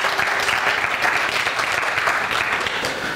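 A roomful of people at a church healing conference applaud steadily, a dense, even patter of many hands close by for the whole three seconds.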